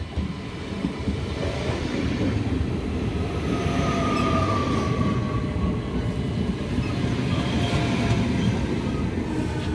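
Inside passenger train trainset 9584, a steady, loud rumble of the moving carriage runs throughout, with faint wheel squeals and clatter and no clear speech.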